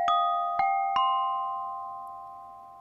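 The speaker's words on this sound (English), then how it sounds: "So let's say we have this gamelan bell that sounds like this." Sampled gamelan bell struck three times in quick succession, each clear metallic tone ringing on and blending into a long, slowly fading shimmer.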